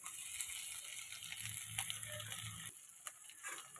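Chopped onion and tomato frying lightly in hot oil in a pan while cooking a prawn curry, a steady close sizzle with faint crackles and a few utensil clinks, no talk.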